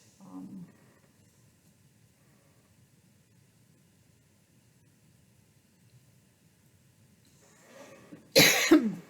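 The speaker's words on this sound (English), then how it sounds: "Apologize for that cough" A single sharp cough bursts out near the end after a long quiet stretch with faint background hiss and a brief murmur at the start.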